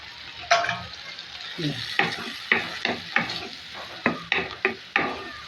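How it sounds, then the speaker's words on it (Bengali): A spice mix is stirred and fried with shrimp in a pan, producing a loud, close sizzle punctuated by repeated rhythmic scrapes of a spatula about every half second. "মশলাটা এখন সুন্দর করে কষিয়ে নিচ্ছি"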